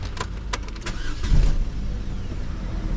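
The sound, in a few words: manual car engine cranking and starting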